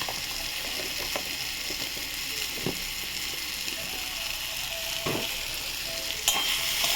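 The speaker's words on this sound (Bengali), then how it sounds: "ভালো করে নাড়াচাড়া করে নিই" Spiced fish curry masala with cumin powder, made for tanra fish jhol, sizzles steadily in oil in a pan while a spoon scrapes and stirs it in a few sharp strokes, with no voices.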